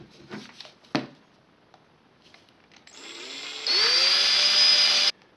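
A power drill bores very small holes in a plastic container. After some light handling clicks, a steady high-pitched whine starts, then rises sharply louder for about a second and a half before stopping abruptly.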